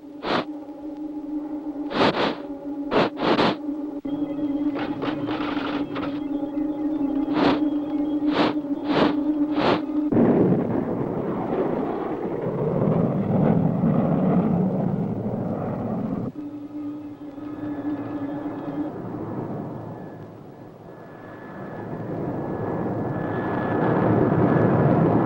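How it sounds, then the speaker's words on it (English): Cartoon spaceship Starduster comes in to land, opening with sharp clicks and a steady hum before a long roaring whoosh of engines and wind that swells, dips and rises again at the close. "Space Angel just landed in the Starduster."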